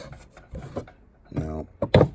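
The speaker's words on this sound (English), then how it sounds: "Let me pull that drawer out." A wooden drawer in a storage-unit box is pulled out with short scraping, rubbing slides, close and moderately loud, in a few separate bursts.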